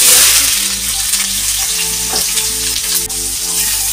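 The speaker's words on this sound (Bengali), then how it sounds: "পেঁয়াজটা ভাজা হইলে পর দেবো মাছ, চিংড়ি মাছ।" Onions frying in hot oil in a home kitchen pan, giving a loud, steady, close sizzle that hisses on without a break and has no talking over it.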